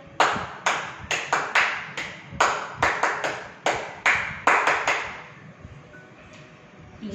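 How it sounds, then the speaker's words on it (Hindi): A few people at a Diwali celebration clap, a string of a dozen or so crisp, separate claps with a little echo in an uneven rhythm, ending in quiet room tone. "तो चलो इसी बात पर बजाओ ताली"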